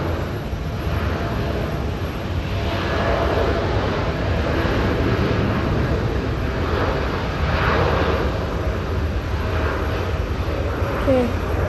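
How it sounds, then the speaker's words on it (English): Qantas Boeing 787-9 Dreamliner landing at Sydney Airport after a flight from Los Angeles: a steady, fairly loud broadband engine roar with a faint whine, holding level throughout with no talk. "Our next plane, QF-12, Boeing 787-9. Qantas from Los Angeles is right now about to land"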